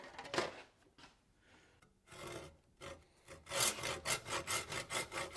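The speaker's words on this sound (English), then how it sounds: "Now we're going to attempt to cut this kerf with this new saw." A new hand saw cuts a kerf into a wooden axe handle, opening with a few hesitant strokes and then settling into a run of quick, rhythmic rasping strokes, close and clear.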